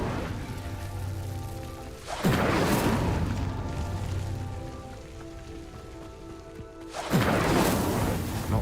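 An Incendio fire spell in Hogwarts Legacy, cast twice as sudden crackling whooshes of flame that flare loudly and then settle into a low rumbling burn, with no voices.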